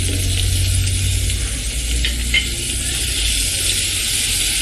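Chopped onions hit hot frying masala for Ratlami sev tameta shaak, giving a steady, loud, close sizzle that continues throughout with faint stirring and no talk.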